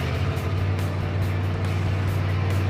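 A Dodge D100 pickup truck running with no mufflers gives a loud, steady, deep exhaust drone with a strong low rumble that holds without a break throughout, close and alone with no talk over it.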